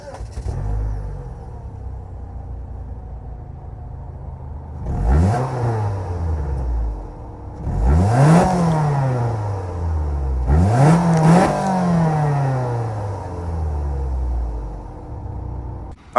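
A 2021 Mitsubishi Outlander Sport GT's 2.4-liter inline four-cylinder starts with a whirring crank, then revs up loudly three times with clear rising and falling sweeps, settling back to a steady idle between blips.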